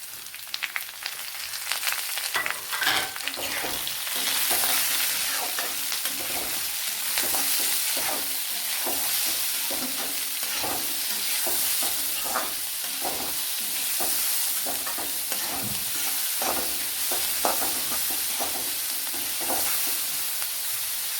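A large chopped onion frying in a pan for a bitter gourd curry, loud dense sizzling broken by frequent scraping stirs of a spoon, close up with no voices.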